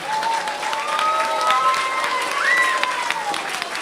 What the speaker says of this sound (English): we want to really give a big round of applause for him